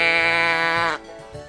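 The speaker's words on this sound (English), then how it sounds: "The sheep says," A single sheep gives one clear, close bleat lasting about a second, followed by quiet.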